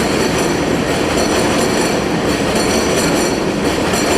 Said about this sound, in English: Don't overtalk the train.